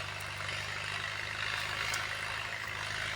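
A tractor's steady, low diesel engine rumble idling evenly throughout, with a constant throbbing hum and no other sounds.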